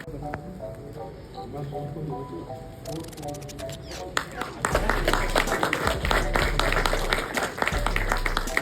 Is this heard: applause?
yes